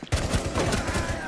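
A frost gun in a video game fires a rapid, steady stream of loud shots with no pauses, close up and without any talk over it.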